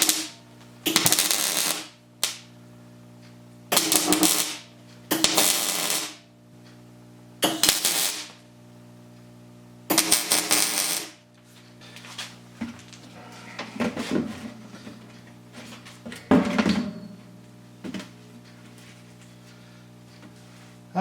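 Tack welding on a new center support leg for a drop storage build: several short, loud bursts of harsh crackling buzz, each lasting about a second, separated by brief pauses over a steady low background hum, close up and with no talk.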